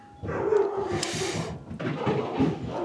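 Dogs bark excitedly at close range at someone at the door, several quick woofs overlapping in an uneven burst with a whine mixed in.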